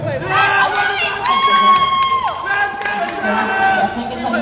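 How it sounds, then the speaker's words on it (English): Wrestling crowd at a cruiserweight title match cheering for the reigning champion, a loud sustained roar with shouts and whoops, mixed with voices and a tonal sweep over the noise. "Crowd is behind our champion, Scott Sarin."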